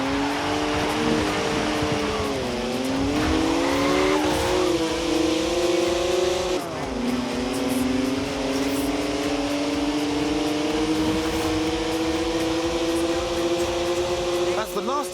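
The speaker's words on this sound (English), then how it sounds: "3-litre straight six, 335 horsepower, 2 turbos" A 3-litre twin-turbo straight-six of 335 horsepower revs loud and close in the Forza Horizon 4 racing game, its pitch climbing and dropping through repeated acceleration and gear changes, with speech in the background.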